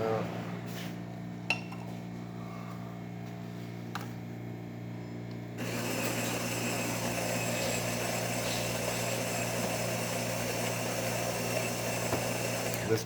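A Jura ENA Micro 9 espresso machine, just serviced and tuned up, sits quietly with a low hum and a few light clicks, then starts brewing another shot with a sudden, steady mechanical whir that runs continuously to the end.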